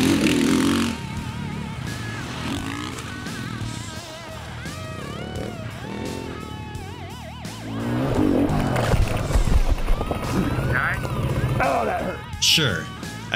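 A KTM 500 EXC dirt bike revs and labours along single track, its engine note rising and falling with throttle changes, louder in the second half, with clattering over rough ground.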